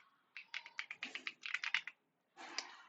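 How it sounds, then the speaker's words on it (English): Close rapid tapping of keys on a computer keyboard, a quick run of clicks, a short pause, then another burst of typing. "Now let me clear that and type in Hebrew."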